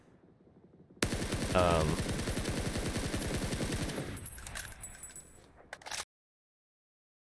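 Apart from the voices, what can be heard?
Scar L assault rifle firing in video game PUBG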